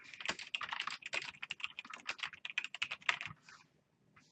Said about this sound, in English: It's still like catching up to my actual typing.